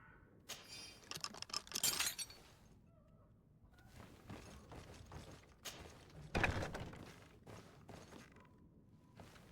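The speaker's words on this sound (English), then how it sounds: "I just unlocked the cell" A prison cell door lock is worked open in the fantasy role-playing game Greedfall: a run of sharp metallic clicks, clatters and knocks, with a loud rattling burst early on and another heavy clank later, and no voices.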